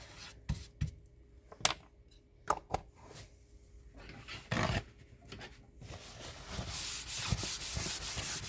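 Rubbing off leftover label residue from a thrift-store item, heard as intermittent dry scrubbing and scratching strokes, close and fairly quiet, growing into steadier, denser rubbing toward the end.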